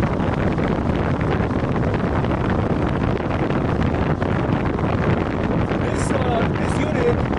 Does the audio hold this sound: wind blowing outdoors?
yes